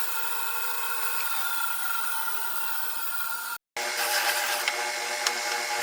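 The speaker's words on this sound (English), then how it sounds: "I'm using the bandsaw to" A bandsaw cutting off excess wood gives a steady, even whirring buzz broken by a brief gap, then resumes slightly louder, with no voices.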